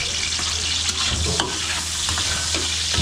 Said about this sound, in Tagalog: gigisa na natin yung pork adobo